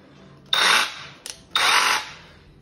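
Two short bursts from a Zubr cordless rotary hammer drill, each about half a second, separated by a brief click, fairly close and loud.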